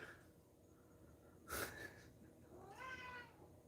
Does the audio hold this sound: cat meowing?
yes